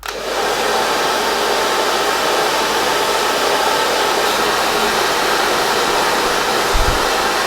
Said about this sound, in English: I'm going to be blow drying, moving the brush opposite